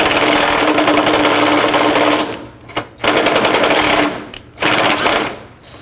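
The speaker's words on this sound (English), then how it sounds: "So remove this top bolt here, and then these two." A power tool zips out the headlight mounting bolts on a 2001-07 Toyota Sequoia: three loud, close, rattling bursts of about two seconds, one second and one second, with short pauses between them.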